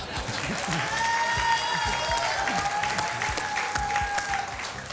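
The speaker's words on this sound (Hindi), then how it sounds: "तालियां" Sustained applause from a TV game show studio audience, a dense steady clatter of clapping that fills the whole stretch at even loudness, with faint crowd murmur and some tonal music underneath.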